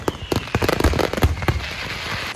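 Fireworks go off at a Spanish fiesta, a dense run of loud sharp bangs and crackles in quick irregular succession over a busy outdoor rumble.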